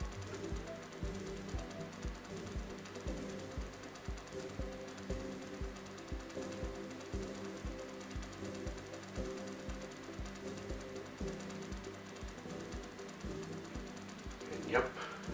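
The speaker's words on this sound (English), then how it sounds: "If you listen closely, you can hear the loading beeps in the background." Atari 800 game loading in an emulator, a continuous rapid mechanical pulsing chatter that runs steadily throughout at low level, like buzzing tape-load tones, with a brief click near the end.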